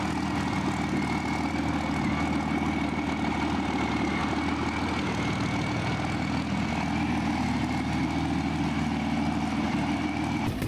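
A vintage V12 engine runs steadily, a dense, constant mechanical drone with a low rumbling undertone and a steady higher whine, loud and unbroken throughout.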